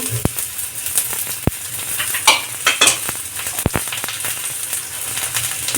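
Chopped vegetables such as cabbage, beans, carrot and capsicum sizzle loudly in a hot pan with onions for street-style veg fried rice, with steady frying hiss broken by sharp scraping stirs and clinks, close up and without talk.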